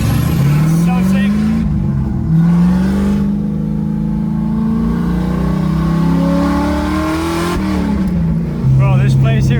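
A drift car's engine revs loudly at the Freedom Factory, its pitch sweeping up and down in long rising pulls with a steady roar throughout, close and continuous.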